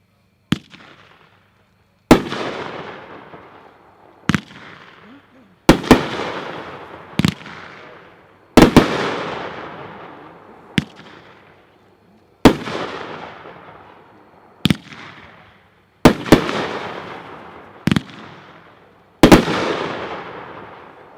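A firework cake called On Strike by Hot fires twelve shots, each a sharp loud launch bang followed by a crackling burst that fades away, spaced about every two seconds in a steady outdoor sequence.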